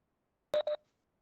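Two short telephone keypad tones beep in quick succession during an unmuted phone line, clean and isolated with silence around them.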